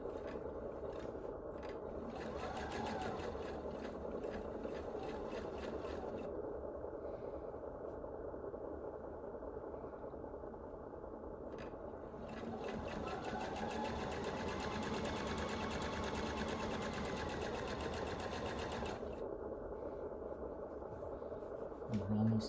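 A domestic sewing machine runs in steady stitching bursts while a large quilt is fed through, with short pauses between seams and quiet fabric scraping, up close and continuous.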